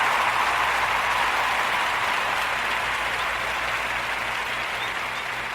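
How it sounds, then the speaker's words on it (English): Audience applause at the Mitsubishi Electric Classic golf tournament event, a broad, steady roar of many people clapping that stays loud throughout and eases slightly toward the end, with no speech over it. "let's give the Mitsubishi Electric Tournament Classic a round of applause"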